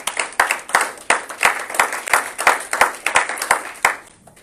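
A congregation applauding during a Sunday church service, with steady rhythmic clapping in even beats, loud and close, fading out at the end.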